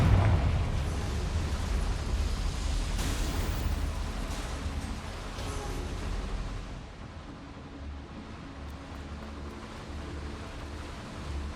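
Confringo blasting spell explosions in the video game Hogwarts Legacy, a burst of loud booming blasts with crackling bursts early on, fading into quieter rumbling debris and ambience.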